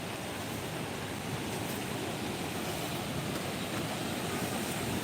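Village waterfall heard as a steady, even rushing roar of falling water, continuous and fairly close, with no talk.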